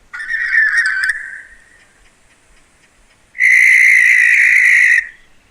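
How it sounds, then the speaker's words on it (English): A barn owl call played back beside a microphone comes as two loud, piercing, drawn-out screeches, the second longer and harsher, separated by a brief quiet gap. "I shall play you a barn owl call"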